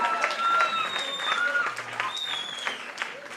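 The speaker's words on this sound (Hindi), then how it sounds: "अंजुम जी के लिए एक बार जोरदार ताली होना चाहिए" An audience at a success-story event applauds, with dense clapping and a few raised voices and whoops carrying through.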